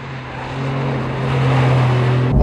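A Porsche 992 Carrera 4S engine hums with a steady droning tone that builds gradually in loudness, as if the car is sliding under power. It ends with an abrupt shift.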